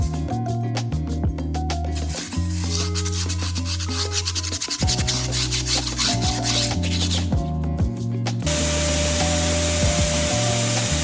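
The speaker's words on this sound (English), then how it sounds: "I used the same sanding grit paper 80 as for the bathroom" Hand sanding a homemade concrete sink with 80 grit sandpaper, loud continuous rubbing and scraping strokes in quick rhythm, close up and without any talk.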